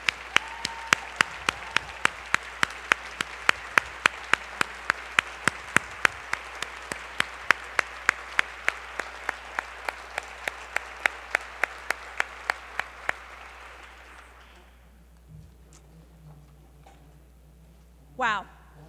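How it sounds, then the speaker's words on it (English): An audience applauds at a public event, with steady crowd clapping and a few sharp, evenly repeating loud claps close by, lasting about fourteen seconds before fading into quiet room tone and brief talking. "I think Jackie Cowell deserves a real round of applause."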